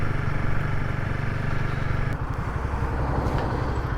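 A motorcycle rides along a single-track road, its engine a steady, close, pulsing putter that shifts to a choppier rhythm partway through, with faint clatter.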